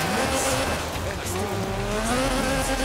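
A 1979 Lotus Sunbeam with a 2.2-litre Lotus slant four-cylinder engine drones steadily in Forza Horizon 4, its tone rising and falling slightly as the tyres hiss, loud and continuous.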